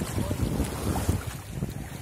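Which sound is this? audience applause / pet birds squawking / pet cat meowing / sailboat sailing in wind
sailboat sailing in wind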